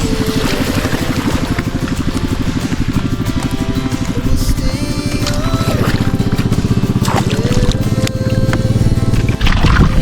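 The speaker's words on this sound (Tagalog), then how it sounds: "May bangka na di motor." A motorized fishing boat's engine drones steadily and loudly throughout, a dense rumbling chug with water noise alongside.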